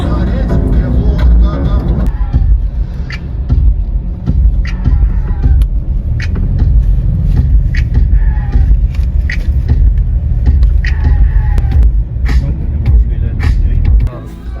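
A car carrying a group of passengers on the way to Loay, Bohol, rumbles steadily from inside the cabin with dense road and engine noise throughout, while people talk faintly under it.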